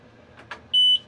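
A couple of faint clicks followed by a single short, high-pitched electronic beep from a nearby xTool S1 laser engraver.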